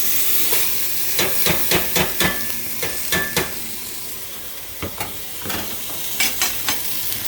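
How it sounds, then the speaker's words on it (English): Washed quinoa frying with turmeric in a pan for pulao, a constant sizzle and hiss broken by bursts of quick scraping stirs, close and without talk. "We're going to give it a stir for 2 or 3 seconds."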